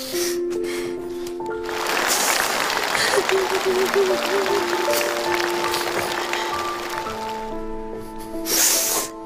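A studio audience on a Chinese TV reunion show breaks into broad, sustained clapping for several seconds, with musical tones sounding beneath it and a brief final burst near the end.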